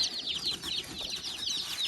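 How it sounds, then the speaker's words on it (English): A crowd of baby chicks, egg-layer chicks in a brooder box, cheeping continuously, with many high, rapid peeps overlapping nearby at a moderate level. "We got a bunch of little baby chickens in here."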